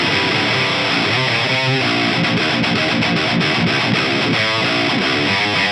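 Heavily distorted high-gain electric guitar through a Jensen neodymium speaker plays loud riffs with chugging chords and sustained notes, thick and saturated throughout.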